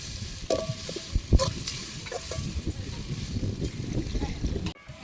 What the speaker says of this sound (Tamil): இஞ்சி பூண்டு பேஸ்ட்டு நல்லா வதக்குறோம்.